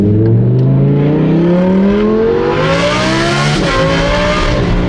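An Audi R8 with a loud flame tune accelerates hard, its engine note climbing steadily in pitch and roaring close and loud throughout, with no voices.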